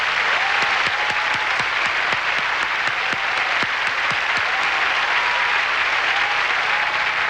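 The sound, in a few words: audience applauding Miss Universe 1989 contestants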